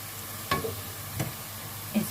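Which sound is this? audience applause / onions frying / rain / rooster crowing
onions frying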